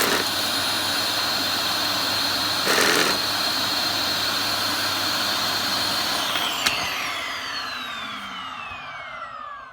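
A Vax Air Steerable Ultra Lite Reach upright vacuum cleaner runs with a loud, steady motor whine and airflow roar, then spins down near the end with a falling tone. A brief bump is heard partway through.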